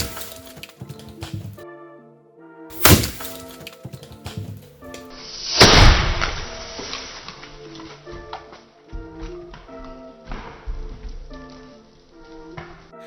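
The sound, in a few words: big firecracker exploding inside clay pot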